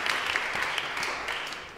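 Studio audience applause on a Pakistani TV talk show, a steady wash of clapping lasting a couple of seconds at moderate level, with no talk over it.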